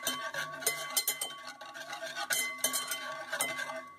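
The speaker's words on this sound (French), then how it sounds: "Je vais rajouter un jaune d'œuf et nous allons fouetter" Egg yolk whisked with milk and cream in a bowl, a quick irregular clinking of the whisk against the side, close and fairly loud.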